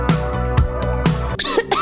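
Someone coughs in a cough medicine commercial for Plemex Forte capsules, with four harsh hacking coughs in a loud, close, uneven rhythm, then throat clearing and strained breathing noises.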